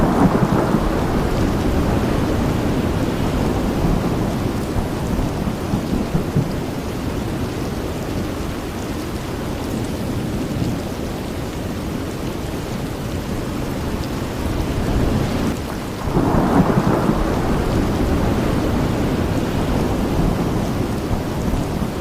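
Heavy rain and thunder from Tropical Storm Imelda over the Carolinas: a dense, unbroken roar of downpour with deep rumbling thunder swelling and fading throughout, loud and continuous, with no voices.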